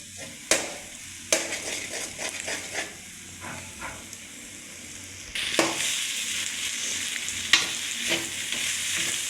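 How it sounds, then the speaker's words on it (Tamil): Four eggs are stirred through rice in a pan while making chicken fried rice, giving a steady sizzle with sharp spatula scrapes and clacks. The frying grows louder and hissier about halfway through, and no one speaks. "நாலு முட்டை சேர்த்துருக்கேங்க இது இப்போ வந்து நல்லா இது கூட கலந்துக்கலாம் வேக வச்சு"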